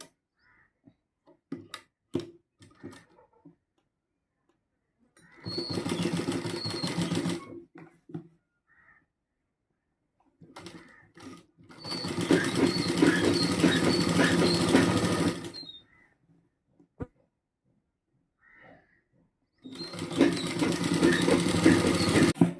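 A sewing machine stitches polyester cloth in three long bursts of steady, rapid whirring, separated by quiet pauses with light handling clicks and taps.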